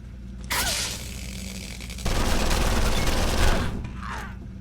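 Gunfire from the video game Condemned: Criminal Origins, a loud burst of shots with a harsh rattling blast over a low rumbling game background, then fading near the end.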